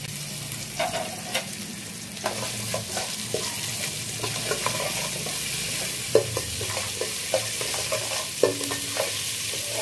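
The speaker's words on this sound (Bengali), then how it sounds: "দেখো এটা ভাজা হচ্ছে, মোটামুটি ভাজা হয়ে গেছে।" Chopped large onion frying in a pan for tomato pulao, giving a steady soft sizzle with repeated scrapes and clinks of stirring throughout, close by and with no talking.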